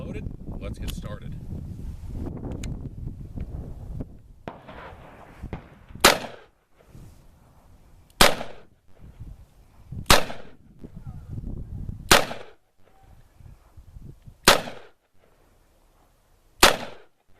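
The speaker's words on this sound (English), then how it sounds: "Time for our third and final shoot with this beauty, the Smith & Wesson Model 19 Combat Magnum" Smith & Wesson Model 19 Combat Magnum revolver shots outdoors, six sharp loud cracks spaced about two seconds apart, each with a short echoing tail, preceded by wind noise and someone talking.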